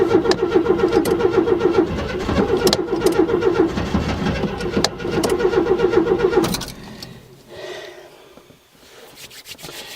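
Car engine cranking and catching in a -10°C cold start while running rich, the starter whirring in repeated loud bursts for several seconds before the engine fires, then settling into a quieter, uneven idle.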